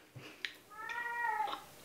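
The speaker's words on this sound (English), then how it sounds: "There's my cat again." A house cat meows once in a kitchen where cupcakes are being frosted, a drawn-out rising and falling cry, fairly close and clear, preceded by a couple of small thumps.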